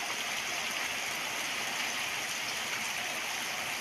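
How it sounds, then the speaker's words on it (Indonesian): Steady rain pouring down outdoors in a village setting, a dense continuous hiss with no breaks, moderately loud and without talk. "Ini di tempat aku lagi hujan lagi teman-teman."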